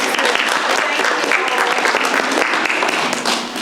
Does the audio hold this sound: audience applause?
yes